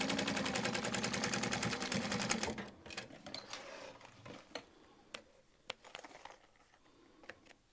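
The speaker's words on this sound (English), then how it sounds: "we're gonna grab our lining here and sew that shut" A sewing machine stitches a waist pack's lining shut in a steady, rapid, close whir for about two and a half seconds, then stops, leaving scattered clicks and fabric-handling knocks.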